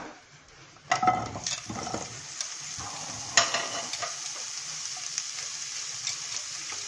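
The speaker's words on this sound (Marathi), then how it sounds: "यामध्ये तोंडली घालूया." Ivy gourd (tondli) drops into a pan of hot oil with a sudden burst of sizzling, followed by a sharp utensil clink and a continuous close frying hiss that settles to a steady level.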